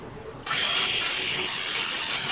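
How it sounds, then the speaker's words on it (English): An electric drill fitted with a 7/64 bit whirs up suddenly and runs at a steady high-pitched drone, close and loud. "now we're going to use a 7/64 drill bit"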